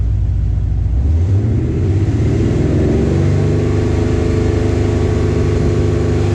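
A car engine is revved from an 850 RPM idle up to about 3,000 RPM, a loud, close rumble that climbs in pitch and then holds steady at the higher speed.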